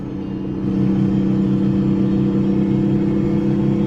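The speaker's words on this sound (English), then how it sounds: "but we'll just listen to the engine right now" A Detroit diesel engine in a big rig with an Allison transmission idles and hums steadily in American Truck Simulator, loud and continuous, rising slightly in level early on and then holding a constant drone with no talking.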